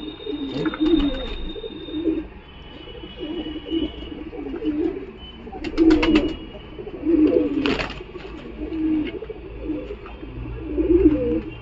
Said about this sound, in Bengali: এটা হলো নর পায়রা কাতমার ছাপগা